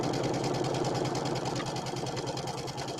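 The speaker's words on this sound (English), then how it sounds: "I'm going to put my fabric right along the edge of my foot, drop my needle." A sewing machine stitches a quarter-inch straight seam with its presser foot guiding the fabric edge and speed set by a foot controller. Its motor whirs steadily and closely, with a fast, even mechanical patter throughout and no talking.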